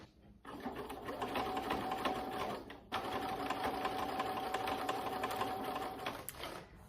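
Sewing machine zigzag-stitching around fabric, a loud, close, continuous rapid whirring hum that starts, pauses briefly and resumes before stopping.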